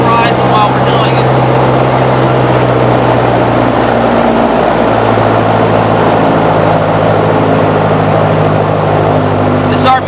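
A small propeller aircraft engine drones loud and close inside the cabin, its steady pitch shifting upward partway through as the throttle is pushed forward, with constant tonal hum throughout.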